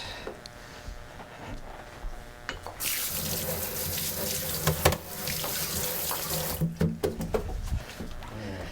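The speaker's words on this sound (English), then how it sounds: "let me just rinse my hands." Hands are rinsed under a running kitchen tap, a close stream that starts after a quiet moment, with splashing and a few knocks as the water runs, and no speech.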